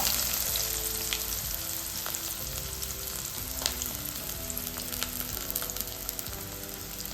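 Mustard seeds and onion fry in hot oil in a home kitchen, a close, continuous sizzle with faint crackles and light stirring.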